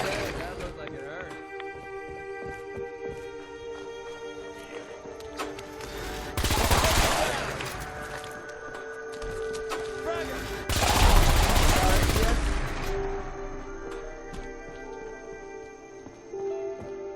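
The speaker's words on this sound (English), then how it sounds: "Opening fire!" Gunfire in the video game Fallout 4: Far Harbor comes as two loud, dense bursts of rapid shots over a continuous game soundtrack.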